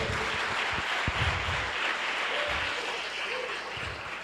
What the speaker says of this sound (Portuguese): Aplauda o Senhor.